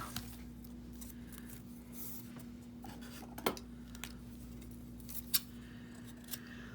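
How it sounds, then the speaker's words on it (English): A large pair of scissors cuts a small piece of tape, giving a few sharp, isolated snips against a quiet indoor background with a low steady hum. "Let's find the biggest pair of scissors we have to cut the littlest piece of tape"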